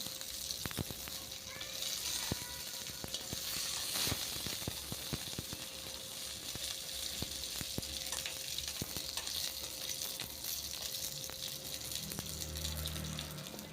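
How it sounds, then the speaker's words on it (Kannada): Mustard seeds, curry leaves and dried red chilies tempering in hot oil, a steady hiss of frying with repeated sharp pops and spits, fairly quiet throughout. "ಒಗ್ಗರಣೆ ಕುತ್ಕೊಂಡ್ಬಿಡೋಣ ಸಾಸಿವೆ ಕರಿಬೇವು ಒಣಮೆಣ್ಸಿನ್ಕಾಯಿ ಹಾಕೊಂಡು ಸ್ವಲ್ಪ ಫ್ರೈ ಮಾಡ್ಕೊಳ್ಳೋಣ"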